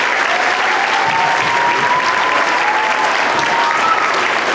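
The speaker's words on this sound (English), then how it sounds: "A round of applause for them, please." An audience claps steadily at a school Veterans Day assembly, a dense even wash of applause holding at the same loudness throughout.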